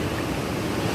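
Kawasan Falls in Moalboal, Philippines, pours as a steady, dense rush of falling water, loud and close, with no break or voice over it.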